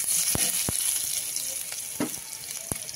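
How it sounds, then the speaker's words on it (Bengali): Whole spices temper in hot oil in a wok, frying with a loud, steady crackling sizzle punctuated by several sharp clicks of stirring. "দিয়ে দিয়েছি ফোড়ন"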